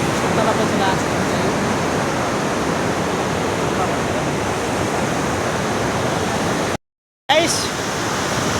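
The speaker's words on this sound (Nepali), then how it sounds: "त्यो झर्ना छ होइन, छारा छ" A waterfall by a stream where someone is fishing, a loud steady roar of falling water that continues throughout, broken by a brief dropout near the end.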